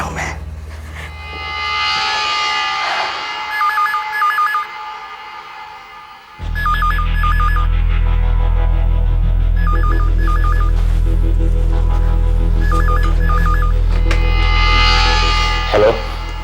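A telephone rings in repeated short electronic bursts, fairly loud, over a steady low hum with some background voices.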